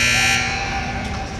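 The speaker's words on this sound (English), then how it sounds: "Buzzer goes." A loud, sustained electronic horn sounds at the end of a period in a hockey game, a harsh buzzing tone that holds and then fades slightly against arena background noise.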